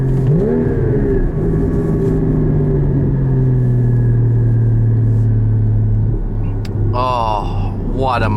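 A 2016 Porsche Cayman GT4 engine accelerating and revving hard, heard from inside the car as a loud, steady, rising drone. A voice speaks briefly near the end.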